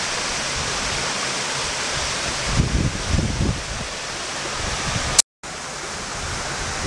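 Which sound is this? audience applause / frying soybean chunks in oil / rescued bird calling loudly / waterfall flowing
waterfall flowing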